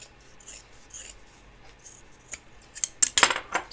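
Scissors snip through a fabric overall strap, giving quiet close cuts that build into a quick cluster of crisp snips near the end.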